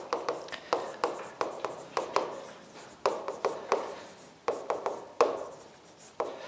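Chalk on a classroom board during a Korean law lecture, a rapid series of sharp taps and scratchy strokes in short rhythmic bursts, close and fairly loud, with no talking.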